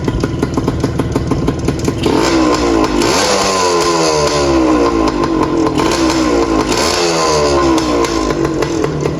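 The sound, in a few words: two-stroke motorcycle engine idling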